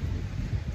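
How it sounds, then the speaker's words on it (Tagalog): Heavy rain and wind storm at sea aboard a boat in the Philippines, a loud rumbling roar of wind buffeting the microphone with steady low-pitched noise throughout. "Ulan at hangin."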